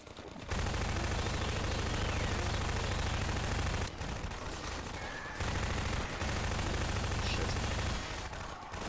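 Sustained SMG fire in a video game, dense rapid bursts lasting several seconds each with brief pauses between, loud and close with a continuous low-end rumble.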